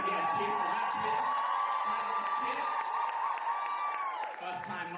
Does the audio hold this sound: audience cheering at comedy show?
yes